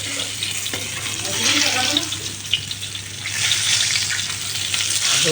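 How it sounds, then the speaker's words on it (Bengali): Fish frying in a pan on a home stove gives a steady, close sizzling hiss, with occasional scraping and stirring movements and faint background noise. "এখন আমার মাছ ভাজি হয়ে গেছে, নামাই নেই"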